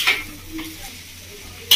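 Chow mein with mushrooms is stirred in a hot pan, a close sizzle with scraping stirs at the start and a sharp clack of the utensil at the end.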